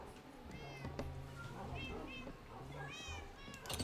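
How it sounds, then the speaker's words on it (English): Cats in the Minecraft video game meow repeatedly, several short rising mews scattered across the clip, fairly quiet against a low game hum, with someone talking underneath. "All of our little kitty cats."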